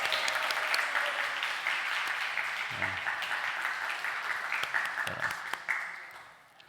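A church congregation claps to welcome brother Navin during a Sunday service, a steady wash of applause with a few brief voices and sharper claps, tapering off near the end.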